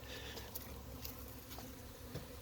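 Honey bees buzz around their hive colonies in a steady, faint, continuous drone, with individual bees occasionally passing close, and no one speaking.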